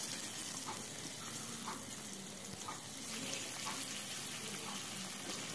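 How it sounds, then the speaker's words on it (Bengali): Pomfret fish frying in hot oil after potatoes, a faint, continuous hiss of sizzling with a few soft pops, steady and close but low in level. "মাছটাও ভেজে নেব"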